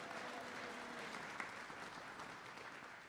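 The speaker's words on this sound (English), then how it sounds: "It's okay to applaud." A town hall audience applauds at a 2025 budget meeting, with steady, dense clapping that stays moderately loud and sustained for about three seconds and holds no speech.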